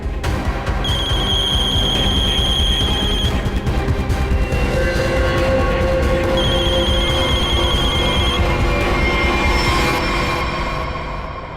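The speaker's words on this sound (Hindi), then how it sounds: "फोन उठाओ" A telephone rings in two long trilling bursts with a pause between, loud over a constant rumbling background.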